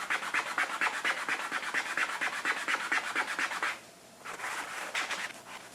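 Fabric rubbed briskly by hand to lift an ink stain from ottoman upholstery with rubbing alcohol: a close, steady run of rhythmic scrubbing strokes, pausing briefly before resuming more softly.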